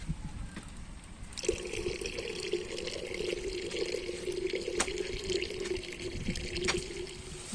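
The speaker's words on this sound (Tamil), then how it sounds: "இப்போ பால் ஊற்றிக்கலாம்" Milk pours in a steady, continuous liquid stream into a pot for a village Thai Pongal celebration, a close, even trickle running for several seconds without talk.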